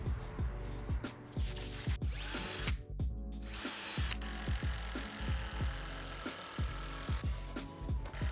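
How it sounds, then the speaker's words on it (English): A power drill driving screws into a wooden workbench's bottom platform, repeated short whirring bursts that rise and fall in pitch with each screw, close and clear with a few brief pauses. "I could set the bottom platform in place and secure it with even more screws"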